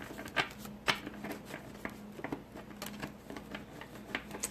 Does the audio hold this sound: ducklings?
no